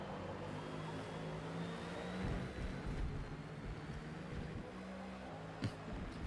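A black and gold Mustang race car driving at Spa in a racing video game, a steady engine drone with shifting pitch and a brief bump, heard from onboard at moderate loudness.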